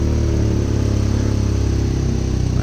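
A BMW motorcycle engine runs steadily and loudly up close, with a continuous mechanical drone that holds at a high idle and begins to ease off slightly toward the end.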